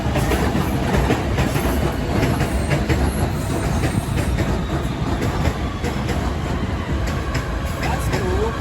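A train rolling through Harrison Station, loud and continuous with rumbling wheels and rhythmic clacking over the rails, plus a faint high squeal throughout.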